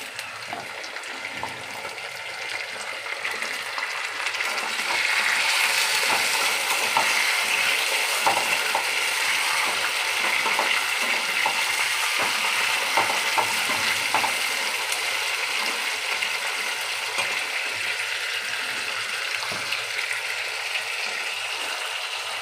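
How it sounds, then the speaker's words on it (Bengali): Chicken pieces frying in hot oil with golden-brown onions and salt, stirred in the pan: a dense sizzle that grows louder and then holds steady and loud, with scraping from stirring and no talk. "চিকেনগুলো একটু তেলের মধ্যে নাড়াচাড়া করলে,"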